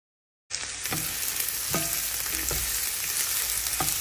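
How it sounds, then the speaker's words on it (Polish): Onion for minced pork cutlets is sautéed in a pan. After a brief silence, a loud, constant sizzle begins, broken by several sharp scraping stirs. "Potrzebuję też szklić cebulkę i zaraz będzie."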